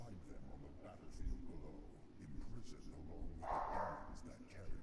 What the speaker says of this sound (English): My damn dog's barking